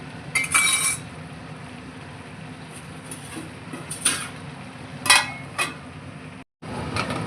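A spoon stirs curry in a metal pot, giving a few scattered clinks and scrapes against a soft, steady kitchen background. The knocks come in uneven bursts, and a brief dropout occurs near the end.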